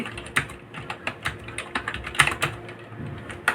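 A prompt typed on a computer keyboard: quick, irregular key clicks at close range, with a few louder strokes standing out and no voice over them.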